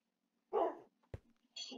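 A dog in the Minecraft video game gives a few short, separate barks, fairly close and moderately loud, with quiet pauses between them.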